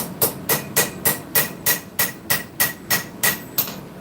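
A hammer planishes a forged knife blade, ringing metallic strikes landing in a steady, even rhythm about three per second, close and loud, with no voices.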